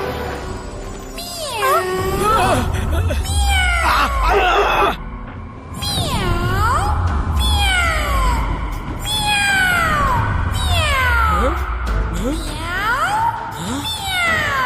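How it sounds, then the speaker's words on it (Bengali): A cartoon cat meows over and over in loud, wailing cries that rise and fall in pitch, set against a busy, dense background. "এই বিড়ালের ডাক কোত্থেকে আসছে?"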